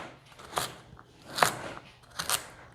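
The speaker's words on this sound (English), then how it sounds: "I will cut lengthwise down the length of the carrots, and then cut little cubes." A knife cuts carrots into small cubes on a cutting board, with three distinct crisp crunching chops spaced about a second apart, close and clear in a quiet room.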